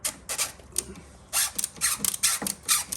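A ratcheting screwdriver clicks in quick, crisp bursts while working on a single-stage snow thrower, close up, with brief gaps between the strokes.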